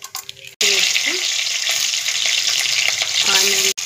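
Cumin and mixed tempering seeds hit hot oil in a pan for a chana (Bengal gram) fry, giving a loud, steady close-up sizzle with a few spoon scrapes near the start and end.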